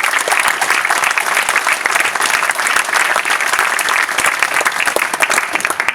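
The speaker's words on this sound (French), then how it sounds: "je vous demande d'applaudir chaleureusement l'engagement de Louis." Warm, loud applause from an audience at an honours ceremony in Nilvange, a thick continuous wash of clapping hands that holds steady throughout without pause.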